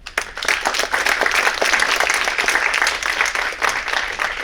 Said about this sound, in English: Please give a round of applause for Chinese Consul General Zhao Jiang